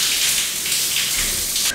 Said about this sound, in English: And it's a rain shower